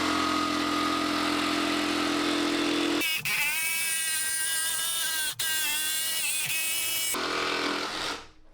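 A Makita cordless jigsaw saws through wood, a loud steady motor whine with a sustained cutting buzz that changes pitch partway through, broken by a brief click, then winds down at the end.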